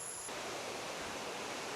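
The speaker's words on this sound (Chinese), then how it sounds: "突然就听到水声了。" Steady broadband rush of falling water from a waterfall in a Danxia gorge at Chishui, Guizhou, heard alone at a moderate, even level with a faint tone fading early.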